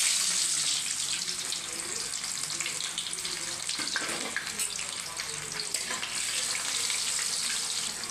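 Chopped onion dropped into hot mustard oil in a pan sets off a steady, loud, close sizzle that hisses continuously with a slight dip midway, no voices over it.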